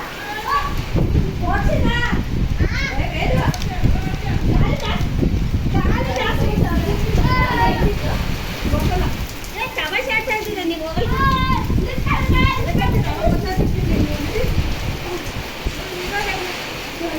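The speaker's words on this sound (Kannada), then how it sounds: "ಮಳೆ ನೋಡಿ ಸಿಕ್ಕಾಪಟ್ಟೆ ಮಳೆಯಲ್ಲೇ ಹುಡುಗರು ಆಟ ಆಡ್ಕೊಂಡು" Heavy rain pours steadily outside in a village while children play in it, their shouts and chatter rising loudly over the constant wash of rainfall for the whole stretch.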